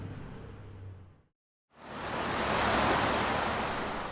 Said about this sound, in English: It looked like a water main break from right here, but it's been going on all day.